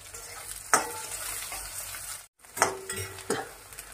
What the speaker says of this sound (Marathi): कांदा चांगला गुलाबी रंगावर तळला गेला आहे